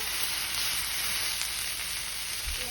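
Fajita vegetables fry in hot oil in a pan, giving a steady, close, even sizzle that holds without a break from start to finish.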